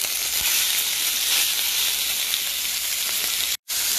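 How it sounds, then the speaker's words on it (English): Steaks sizzling in hot oil in a frying pan, a loud, steady crackling hiss that runs continuously and close up, with a brief dropout near the end and no voices. "add a little bit of oil, swirl that around, and then chuck our bloody steaks in"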